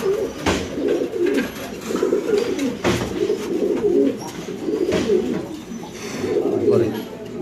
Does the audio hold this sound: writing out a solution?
no